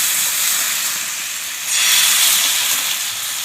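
Patisapta batter, a Bengali rolled crepe, ladled into a hot pan sizzles with a steady bright hiss that swells a little partway through, with no voices.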